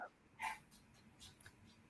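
A faint dog whimpers and makes a few soft short yips, close but quiet, with breathy pauses between.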